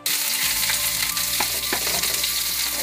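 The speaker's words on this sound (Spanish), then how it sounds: "Ahí voy a echar esto al sartén para que pueda meter el pollo ahí también." Onion frying in a hot pan for tacos, a loud, even crackling sizzle starting abruptly and holding steady, with a few sharper pops and stirring scrapes, no voices.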